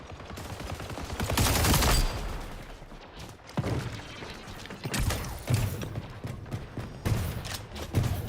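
Mech assault rifle fire in a shooter video game, bursts of rapid shots repeating across the stretch with mechanical clatter between them, close and fairly loud, no talking.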